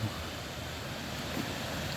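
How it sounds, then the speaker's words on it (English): Steady, broadband rush of a waterfall in a park in Nelson, B.C., heard at some distance as a continuous even roar with no talking. "You can see the waterfall in the background there."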